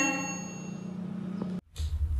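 A single bright bell ding rings out and sustains with a shimmering decay, then cuts off abruptly, followed by a brief low rumble.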